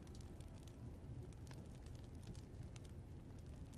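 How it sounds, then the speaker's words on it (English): A campfire in The Walking Dead video game crackles softly and steadily with scattered small pops, faint and alone. "It's so much nicer by the fire."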